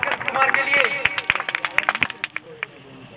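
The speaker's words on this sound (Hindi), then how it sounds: "जोरदार तालियां भास्कर कुमार के लिए" An audience claps loudly for Bhaskar Kumar at a college gathering, a burst of dense applause that thins into scattered, separate claps and fades out within a few seconds.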